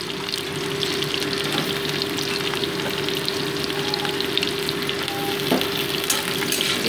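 Potato and flat bean pieces fry in hot oil for a dish of bhola fish, giving a steady, close, dense sizzle that holds evenly throughout, with a faint clink or two and no voices.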